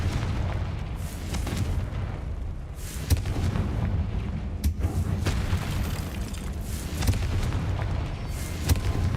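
A Confringo spell detonates in a video game set in a decaying catacomb, sending out a dense run of loud, booming blasts and crackling bursts that keep sounding with hardly a pause.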